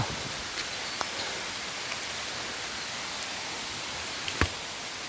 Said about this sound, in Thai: น้องลงเขาครับลงเขา เสียงน้ำตกครับ